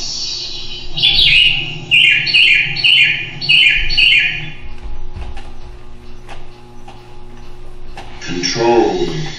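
Birds sing in the treetops with a run of bright, repeated chirps near the start, followed by scattered clicks and faint mechanical tones, with another brief burst of twittering at the end.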